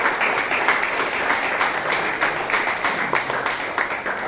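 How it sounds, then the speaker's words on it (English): Audience at a Bangalore Toastmasters meeting applauding their president, a dense, sustained round of clapping that stays fairly loud and steady throughout. "So please give our president a huge round of applause."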